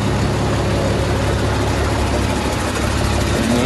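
A loaded rice truck's engine drones loud and close with a dense, steady low roar, its pitch creeping slightly upward as it accelerates.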